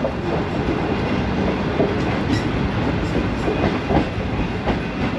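Train rolling through Badami Bagh railway station on the Shalimar Express route from Lahore, a steady loud rumble of wheels and carriages with faint rhythmic clatter throughout, no voices.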